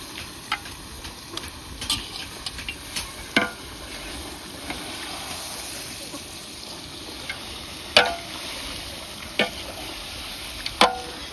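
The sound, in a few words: mutton being added to fried onion and turmeric gravy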